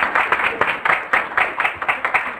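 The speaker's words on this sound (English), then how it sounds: "let's give Carol a round of applause" An audience claps for Carol at a training event for Latinas with disabilities and their allies, a steady, fairly loud round of applause with dense individual claps and no voices over it.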